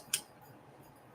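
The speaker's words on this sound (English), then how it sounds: "Oh, how I love to fussy cut." Scissors give one quick, faint snip while fussy cutting paper, set against a quiet room.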